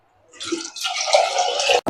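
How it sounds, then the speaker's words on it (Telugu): Water poured from a cup into soaked chana dal in a cooking vessel, a short continuous splashing pour lasting under two seconds, close and fairly loud, ending with a sharp knock. "ఒక కప్పుకి రెండు కప్పులు వాటర్ పోసానండి"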